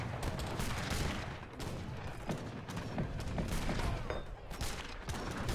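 Repeated gunfire bursts from a defensive tower in Age of Empires II, a steady crackle of shots layered with battle noise throughout.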